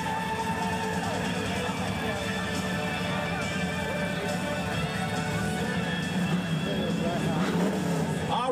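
Chevrolet Nova drag race car idling and rumbling at the starting line of a street drag event, a steady loud engine drone with other engines around it, heard under an announcer talking over a public address system.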